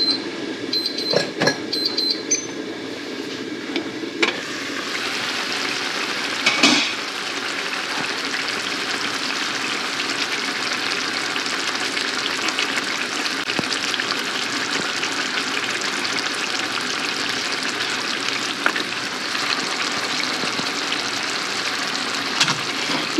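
Pork tenderloin braising in a skillet with water, a loud continuous sizzle and bubbling hiss close up, with a few brief clatters near the start.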